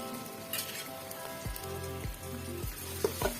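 Sliced onions browning in hot oil for khichuri give a steady, close sizzle and crackle, with a few faint background tones running beneath it.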